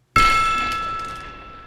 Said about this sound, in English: Let's gong us in really quick.